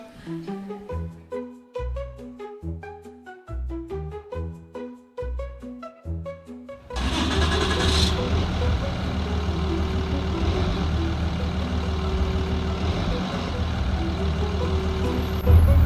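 A vehicle approaches and comes to a halt, its engine rumbling loudly and steadily close by after a stretch of rhythmic music, with a brief hiss near the end.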